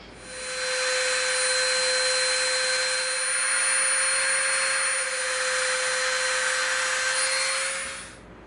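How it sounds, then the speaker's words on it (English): A Dremel rotary tool carves a trench into EVA foam with a continuous high-pitched whine, spinning up, holding steady and loud up close for about seven seconds, then winding down, with no talk. "We're going to Dremel this trench."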